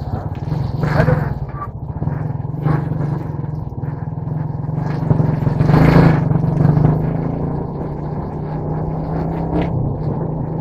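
Motorcycles running along a town street in Nabua, a steady close engine drone with a low hum, swelling as one passes nearer midway, with scattered background noise throughout.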